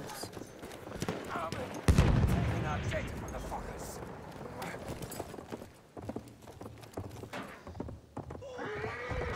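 Horse hooves clatter and a horse whinnies during a Battlefield 1 match, with gunfire and battle noise around it. People talk over the galloping.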